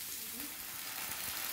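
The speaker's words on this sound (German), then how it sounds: "der zarte Spargel in Olivenöl mit Knoblauch angebraten" Wild asparagus fries with garlic in olive oil in a hot pan, making a steady, bright, close sizzle that carries on throughout.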